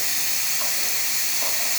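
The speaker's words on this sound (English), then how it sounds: "now we're going to test the steamer" A Breville Oracle Touch espresso machine's steam wand releases a loud, steady, close hiss of steam that runs unbroken throughout.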